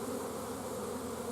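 Honeybees swarm and hum during the installation of a nuc into a hive, a dense, steady buzz of many insects close by with no voices over it.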